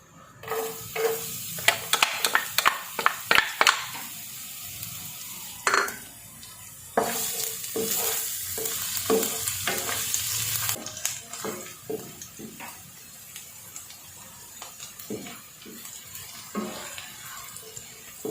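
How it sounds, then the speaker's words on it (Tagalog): Garlic frying in hot cooking oil in a frying pan gives a soft steady sizzle, broken by clattering scrapes and taps of a utensil against the pan, fairly quiet and close. "sa mainit na frying pan. Lagay tayo ng garlic."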